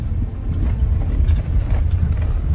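Steady low road rumble fills the inside of a car driving through Ukraine in February 2023 on a Khmelnytskyi–Kherson–Tiahynka trip, a constant close drone with faint rattles and wind and no talking.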